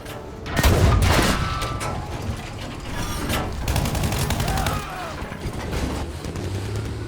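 StuG IV tank in Battlefield 5 gameplay, a heavy cannon boom followed by rattling bursts of gunfire, mechanical clatter and continuous loud battle noise.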